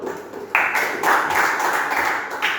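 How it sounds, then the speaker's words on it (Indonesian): Students in a Christian religious education classroom clap for a winning group, starting with a few light claps and then swelling into brisk, fairly close applause that continues to the end. "Tepuk tangan dulu."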